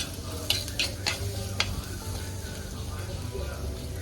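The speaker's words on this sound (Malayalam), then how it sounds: "ഈ വെണ്ടക്ക അതിലേക്ക് ഇട്ട് കൊടുക്കാം. അരിഞ്ഞ് വെച്ച വെണ്ടക്ക." Chopped okra tipped into a hot pan and stir-fried, with a few sharp scraping strokes of a spatula early on over a low, steady sizzle.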